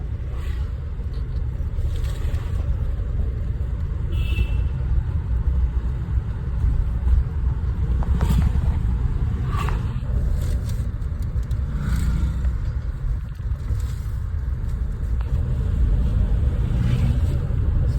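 A Mahindra Bolero B6 Opt driving along a main road, heard from inside as a steady, loud low engine and road rumble that continues throughout with no clear talk.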